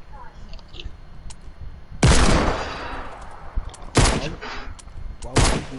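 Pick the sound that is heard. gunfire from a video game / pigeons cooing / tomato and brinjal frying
gunfire from a video game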